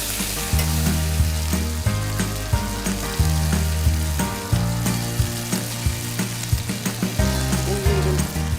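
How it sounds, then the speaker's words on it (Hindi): Chicken sautéing lightly in a pan for Malwani-style chicken sagoti gives a steady, loud sizzle with frequent stirring scrapes, running continuously under background music. "तो मैं बस चिकन को थोड़ा सौते करूँगी इसके अंदर"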